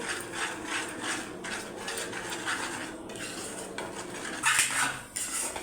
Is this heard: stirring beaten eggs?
yes